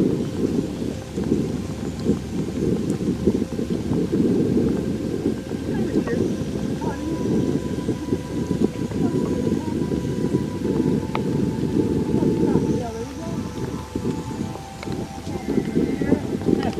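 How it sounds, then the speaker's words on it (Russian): Squall wind blows hard across a boat on open water, a loud, continuous roar and buffeting on the microphone for the whole stretch, with a few faint higher sounds mixed in. "Шквальный ветер прямо в лицо."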